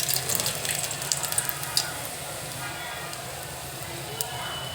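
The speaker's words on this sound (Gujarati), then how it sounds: "હવે આપણે લસણથી વઘારી નાખીશું." Garlic sizzles in hot oil while tempering potatoes for a Gujarati batata nu shak. It is a continuous close hiss with scattered sharp crackles and pops, and someone speaks over it.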